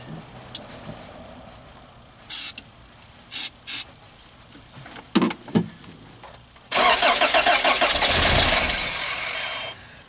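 A 1986 Toyota van engine cranked with starting fluid: several short bursts of starter cranking, then a longer sustained run of cranking and sputtering near the end, recorded close up.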